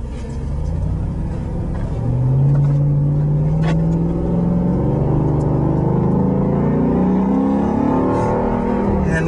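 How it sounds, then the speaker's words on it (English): A 2008 Jeep Grand Cherokee SRT8 with a Hemi V8 and coarse exhaust, heard from inside the closed cabin with windows up, drones with a deep, steady rumble that swells into a loud, rising pull of acceleration and holds strong to the end. "time for our test ride in our 2008 Jeep Grand Cherokee SRT8 Hemi. With a coarse exhaust, it sounds incredible."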